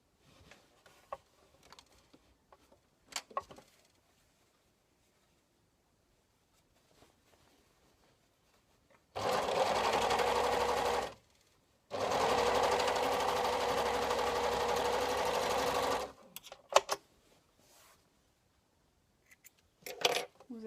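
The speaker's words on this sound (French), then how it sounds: "Ici, je le fais à la surjeteuse" A serger overlocker stitches fabric pocket pieces in two loud, steady bursts of whirring, split by a short pause, with quiet handling clicks and taps before and after.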